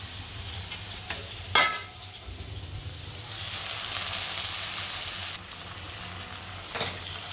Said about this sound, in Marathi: चला, इकडे खिचडी बनवते आता मी.